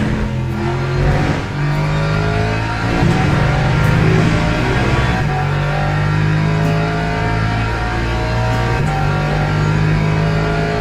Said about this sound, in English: I like the sound inside the car. It sounds really good.